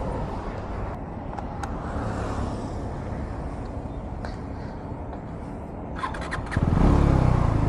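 A 2025 third-generation KTM Duke 390 motorcycle engine starts up, a steady idle rumble under outdoor background noise that jumps to a louder, fuller engine roar near the end.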